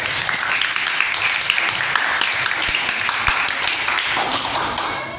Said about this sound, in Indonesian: Tepuk tangan dulu buat teman.